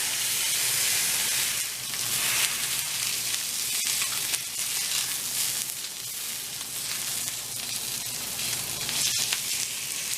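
A cheap-cut New York strip steak sears in a hot pan, giving a steady, loud, close sizzling hiss that runs the whole time with a few sharp crackles and no talking.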